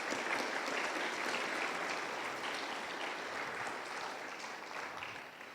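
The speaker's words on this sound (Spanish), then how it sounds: "Dale palmas al Señor." A church congregation claps together during a worship service, a dense, steady wash of applause that holds at a fairly even loudness and eases slightly toward the end, with no voices standing out.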